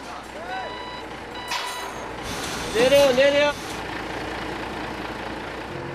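Truck loaded with bricks for building a portable ondol clay-room floor, reversing with steady repeating beeps over its idling engine and an air-brake hiss, while a voice calls out briefly.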